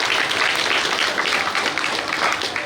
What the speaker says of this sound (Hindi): जोरदार तालियों की गड़गड़ाहट होनी चाहिए।